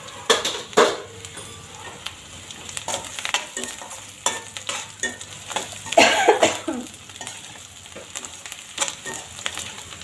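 Fennel and mustard seeds fry and crackle in a hot pan with scattered pops and sizzles, stirring scrapes and utensil clinks.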